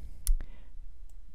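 Two quick, crisp mouse clicks close together, a double-click heard up close in a quiet room, followed by near silence.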